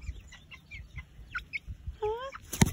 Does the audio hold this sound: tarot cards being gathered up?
no